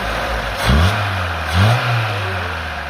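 Car engine fitted with a freshly tuned 24-26 carburettor idles, then is blipped twice in quick revs that climb and fall, settling back to a steady close idle with no voices.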